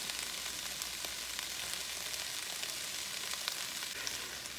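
Noodles and vegetables fry in a hot pan, giving a steady, close sizzle with occasional crackles and pops that run continuously without pause and without talking.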